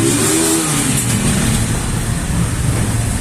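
A Sparkle 125 FI fuel-injected motorcycle engine revs loud and close, a sustained roaring rev lasting a few seconds with no talking over it.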